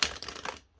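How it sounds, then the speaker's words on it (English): A deck of tarot cards riffled in a single quick shuffle, a brisk papery crackle lasting under a second and then cutting off to silence, close and fairly quiet. "I'll do one more shuffle and then I will"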